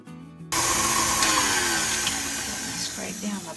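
Electric mixer beating German chocolate cake batter in a bowl, a loud steady whirring drone that runs unbroken for several seconds right after a quiet start.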